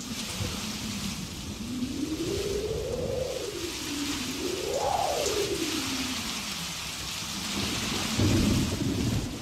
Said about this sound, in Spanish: la lluvia sigue ocasionando inundaciones en diferentes partes del país